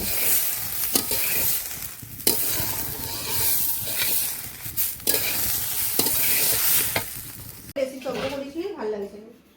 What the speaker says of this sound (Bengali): এখানে চালটা গরম মশলা ফোড়ন দিয়ে ভাজছি